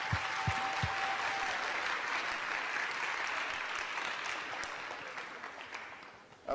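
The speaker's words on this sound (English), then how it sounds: "So if we can give them another round of applause," An audience in a high school hall gives a sustained round of applause, steady and fairly close, slowly tapering off toward the end.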